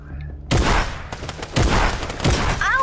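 Gunfire in the Fortnite video game: after a quiet start, three loud, close bursts of rapid shots come in quick succession, about a second apart, with brief gaps between them.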